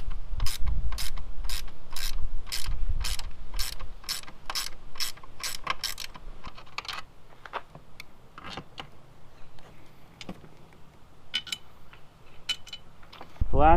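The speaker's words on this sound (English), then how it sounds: "I'm going to need a ratchet, or a wrench" Ratcheting wrench loosening F250 driver side seat bolts: a fast, steady run of close metallic clicks, then slower, sparser ratchet clicks with pauses, under a faint background hum.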